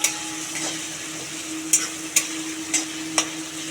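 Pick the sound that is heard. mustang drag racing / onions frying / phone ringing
onions frying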